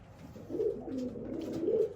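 Pigeons coo softly nearby, two or three low throaty calls in a gentle rolling rhythm, fairly quiet.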